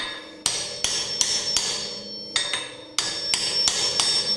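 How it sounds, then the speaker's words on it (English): A hammer taps a socket seated on a wheel bearing's outer race, driving it into the hub in sharp, ringing strikes, several spaced blows with a pause in the middle, each leaving a bright metallic tone. "once you found yourself a socket that only sits on the outer race, tap it in"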